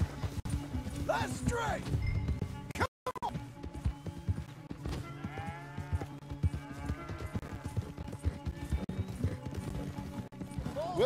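Horses galloping hard in Red Dead Redemption 2, steady clip-clop hoofbeats with occasional whinnies and snorts, close and continuous, while a voice speaks briefly over the riding.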